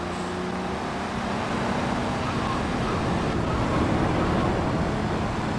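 Car engine and road rumble from driving in the video game GTA III, a steady broadband drone that holds evenly throughout with no clear speech.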